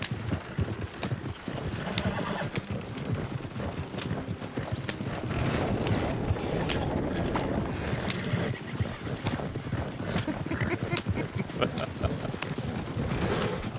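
Horses clip-clopping in Red Dead Redemption 2, a steady patter of hoofbeats with an occasional whinny over game ambience, while someone talks faintly.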